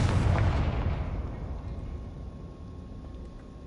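Confringo fire spell blast in Hogwarts Legacy, a loud booming explosion at the start that rumbles and decays into a long fading tail with no voices.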